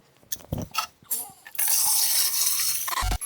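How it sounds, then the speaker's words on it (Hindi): Salt water poured from a clay matka into another vessel, a broad splashing gush of water that swells after a few scattered clinks and handling knocks, then cuts off abruptly near the end. "तो हम इस पानी को भी किसी एक बर्तन में लोट लेते हैं"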